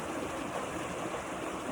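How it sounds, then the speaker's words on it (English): A creek flows steadily in the evening, a soft continuous broadband wash of running water, fairly quiet and even throughout with no voices. "I am out this evening sitting by this beautiful creek that I visit as often as I can"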